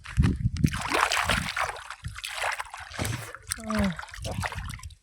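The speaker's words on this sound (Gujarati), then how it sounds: "ધોઈ નાખ્યો હાથ" Hands are washed with water, giving irregular splashing, sloshing and trickling close by, with voices talking intermittently over it.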